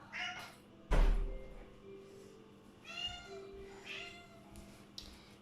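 A house cat meows to be let in, giving several drawn-out meows at moderate distance, along with a sharp knock or thud early on, in a quiet room.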